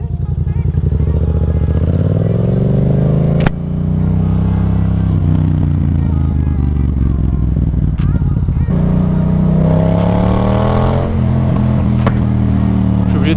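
Motorcycle engine revving up repeatedly while riding to refuel, pitch climbing in several loud accelerating sweeps with a brief gear-change dip, close and continuous, with speech-like engine drone throughout.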